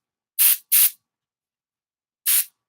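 Three short hissing spray bursts from an aerosol or spray bottle, two quick ones close together followed by a pause and a third, loud and near with silence between.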